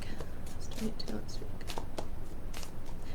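Tarot cards being shuffled and drawn, a soft papery riffling and sliding that continues steadily throughout, with small taps and rustles as cards are handled close by.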